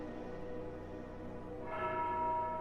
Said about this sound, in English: The bell finished marking the 7th hour afternoon